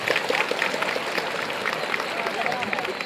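Crowd applause at a film's red carpet show: continuous clapping with scattered sharper claps, mixed with crowd murmur and voices talking.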